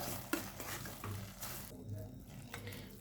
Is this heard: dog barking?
no